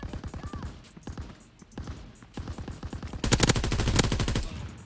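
Rapid machine-gun fire in a Call of Duty WW2 online match, a loud sustained burst of automatic shots following a stretch of someone talking over quieter game sounds.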